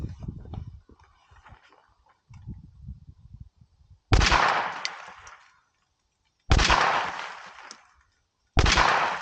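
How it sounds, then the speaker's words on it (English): .380 pistol shots with full metal jacket ammo are fired through car glass: three loud, sharp blasts spaced a couple of seconds apart, each ringing off and decaying, after quieter low rumbling and shuffling. "This is a 380 with full metal jacket ammo."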